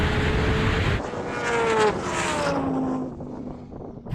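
A twin-turbo Lamborghini Huracán drag racing a Kawasaki H2R motorcycle, loud engine roar with rising and falling pitch as the machines accelerate and pull away, fading toward the end.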